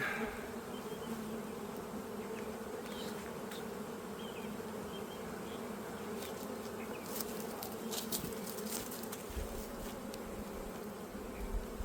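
Honeybees from a full-size colony opened for a spring split hum steadily around the hive, a continuous close buzz with faint clicks and knocks from handling frames.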